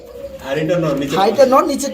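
Soft cooing from a pair of helmet pigeons at a pigeon sale, brief and close, mixed with nearby human voices.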